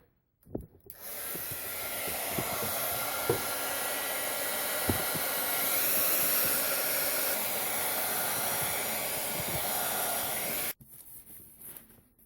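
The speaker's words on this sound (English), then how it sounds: "let's hit this with the heat gun" Heat gun blowing steadily on embossing powder, a loud, continuous airy hiss that starts abruptly after a couple of faint clicks and runs for about ten seconds before cutting off.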